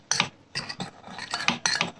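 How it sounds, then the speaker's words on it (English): A crushed Oreo mixture stirred in a bowl, with a utensil clinking and scraping against the sides in quick repeated strokes, close and fairly quiet. "Now we have to give it a nice mix."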